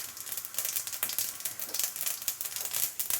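Mustard seeds and cumin sizzle in hot sesame oil while tempering spices for a brinjal kadaiyal, giving a steady, dense crackle with quick pops throughout and no talking.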